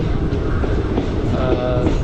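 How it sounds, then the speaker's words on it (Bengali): Inside a superfast express passenger train running between Bolpur and Rampurhat, a loud, steady low rumble of wheels and carriage with a faint higher squeal partway through, no talking. "এই ট্রেনটাও ভালো, মোটামুটি সুপারফাস্ট ট্রেন।"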